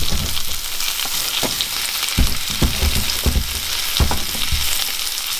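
Sliced portobello mushrooms frying in a pan, a steady loud sizzle with scattered pops and a few stirring scrapes, close up, no talking.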